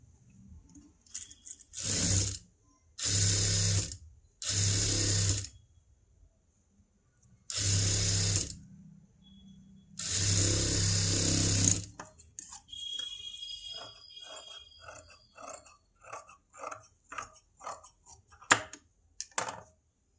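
A sewing machine stitches a folded piece of a princess-cut, boat-neck blouse in five loud, steady runs of a second or two each, then gives way to lighter, scattered clicks and rattles up close.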